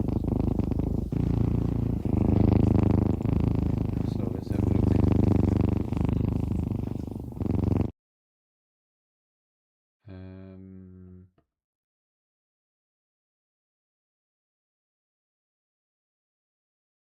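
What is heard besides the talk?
cat purring sound effect from video game eCommerce '99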